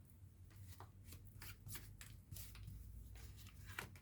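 Oracle cards are shuffled and drawn in quick riffling, rustling bursts, close and steady, with a few sharper card snaps laid out on a table; no one speaks.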